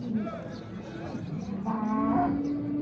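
Angus cattle at a livestock market low repeatedly in long, drawn-out moos, close and fairly loud over a busy background.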